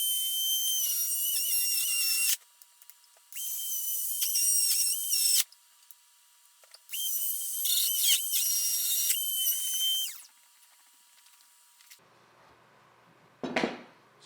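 Cordless router making a test cut for a shelf groove, loud high-pitched bursts of whirring and cutting in three stretches separated by pauses, then a quiet gap and a brief clatter.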